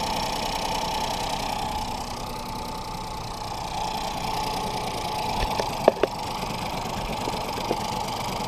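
A 2018 Ford Focus with water in a cylinder idles after starting, a steady low engine hum with a few sharp knocks and clicks near the end.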